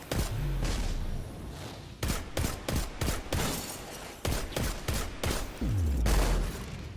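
Weapons fire in the video game Destiny against enemies during a Nightfall mission: loud bursts of rapid shots and heavy single blasts crack repeatedly at close range over a dense bed of game noise.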